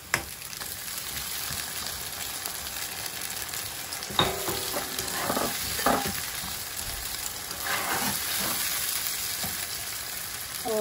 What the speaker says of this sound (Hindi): प्याज को फ्राई करते हैं। तो अब हम इसमें टमाटर ऐड कर देंगे।